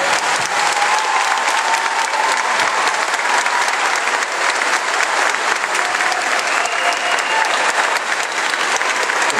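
A concert crowd at a show in Belfort gives loud, sustained applause for over nine seconds, thick with clapping and a few whistles rising from the audience.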